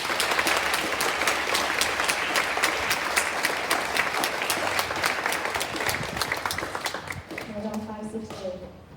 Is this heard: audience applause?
yes